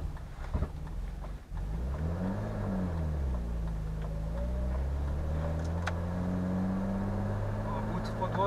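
An old BMW E34 520 engine drones and strains at low revs while driving, barely moving, pitch rising and falling unevenly as it labors along, steady and close with faint rattles.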